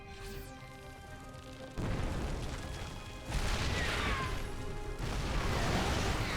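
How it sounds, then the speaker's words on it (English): Siege tank shots in a StarCraft 2 Terran versus Zerg match: heavy booming artillery blasts land in quick succession, each louder wave stacking over a dense roar of battle. "Oh my god, the tank shots!"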